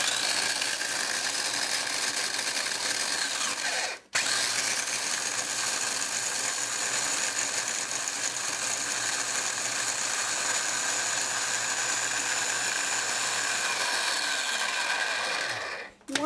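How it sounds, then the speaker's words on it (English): Small food processor whirring steadily as it chops chessmen shortbread cookies into fine crumbs, a continuous loud motor drone with a brief stop near the start and another at the end. "So I put them in my little food processor."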